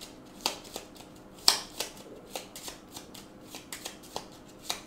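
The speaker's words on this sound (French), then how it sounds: "moi j'ai fait un x2 là, je dois remélanger le deck" A Gloomhaven attack modifier deck of game cards is reshuffled by hand at close range: a quick run of crisp riffling snaps and soft card flicks, with one sharper slap near the start.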